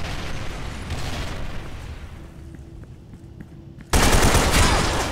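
Gunfire in the shooter game Special Force 2 rattles in loud rapid bursts, dips into a quieter stretch with sparse clicks, then erupts again into heavy, sustained automatic fire and booms.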